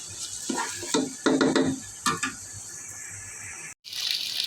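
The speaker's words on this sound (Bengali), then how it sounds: "এখন চালগুলো দিয়ে আমি ভালোভাবে লাড়াচাড়া দিয়ে নেব" Rice for jeera rice sizzles in a pan as a spatula stirs it in several quick scraping strokes, with a steady frying hiss underneath that cuts out briefly near the end.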